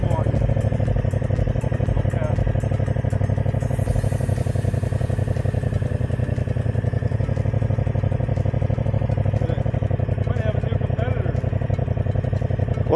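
A motorcycle runs steadily through a training session, its mid-pitched engine droning close and constant as the rider applies the rear brake, with a voice talking over the engine noise.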